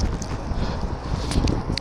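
Gusty wind buffets a handheld microphone outdoors on a very windy day, a steady low roar with small surges and no clear voices over the full short stretch.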